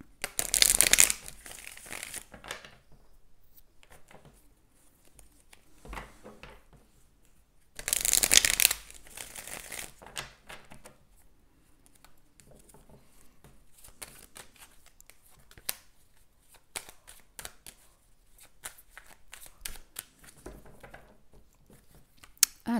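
Tarot cards are shuffled in two loud riffling bursts a few seconds apart, with quieter card handling, tapping and sliding between and after them, close and without speech.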